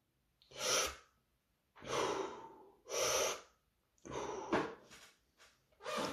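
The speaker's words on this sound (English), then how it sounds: "So, you inhale, on the way up, you exhale." Sharp, forceful exhalations accompany a bicep curl, several distinct close breaths in a steady rhythm with short silences between them.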